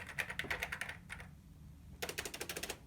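Rapid, clacky typing on a C64 Maxi keyboard in two bursts, with a short pause between them, close and crisp against quiet background.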